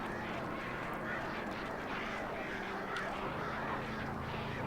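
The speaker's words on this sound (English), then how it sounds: "Keep your distance, you little bastard birds." A swarm of hostile birds in the video game Alan Wake makes a steady, dense wash of cawing and flapping noise that fills the whole stretch without a break.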